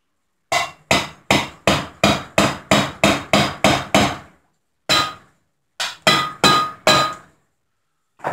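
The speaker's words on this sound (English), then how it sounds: "Let me get a ball peen hammer here." Sharp metallic ball peen hammer taps ring out while seating parts during a chainsaw crankcase assembly, a quick steady series of about a dozen blows, then a pause, then a few more strikes, close and loud.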